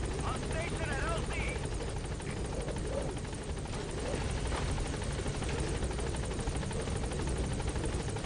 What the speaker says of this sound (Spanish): ¿dónde estás, helicóptero?